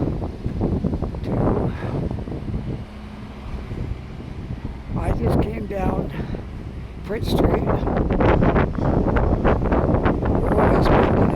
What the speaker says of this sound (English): Oh, it's windy now down here.